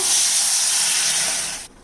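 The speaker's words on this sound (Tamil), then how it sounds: "இப்போ நம்ம கலந்து வச்சுருக்க இந்த புளி தண்ணி சேர்த்துடலாங்க." Tamarind water for rasam hits a hot pan with a loud, close, broadband sizzle and hiss that holds steady for over a second, then cuts off sharply; no voices.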